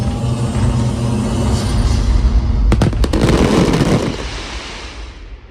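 Fireworks at the Alton Towers theme park boom under a steady rumble, then a rapid burst of sharp crackling explosions before the noise fades away.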